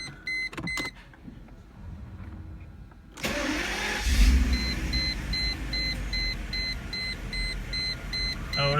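A 1997 Mercedes SL600 V12 is hot-started after a spark plug change, a brief crank catching at once and settling into a steady, loud idle close by, with a faint repeating beep running over the engine hum.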